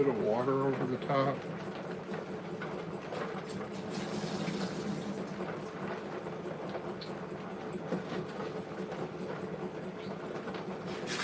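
Water pours over rocks in a bucket being cleaned with Cascade Rinse Aid, a continuous splashing fill running steadily under a voice.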